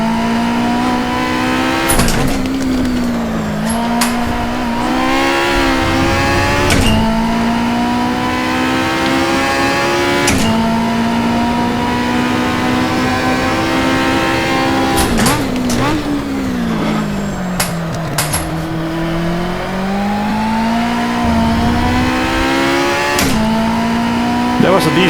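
A Camaro racing through a full lap, its engine droning steadily and rising and falling with each gear change and corner. Someone talks intermittently over the continuous roar.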